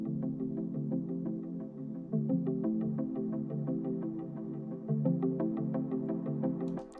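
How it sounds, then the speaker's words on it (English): Sliced trance-style synth plucks from a Splice sample, processed with EQ and the low end rolled off, play in a steady rhythmic pattern with chord changes around two and five seconds, ending in a brief bright burst. "it's these trancey type plucks"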